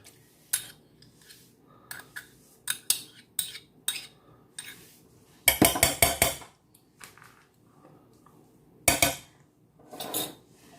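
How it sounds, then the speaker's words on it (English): A whisk works cream cheese into a sauce in a pan, with irregular metallic clinks and taps against the pan, a couple of longer rattling scrapes, and quiet gaps between, without talking. "Go ahead and get that whisked in. We're going to whisk it until it's nice and smooth."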